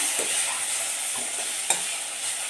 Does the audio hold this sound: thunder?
no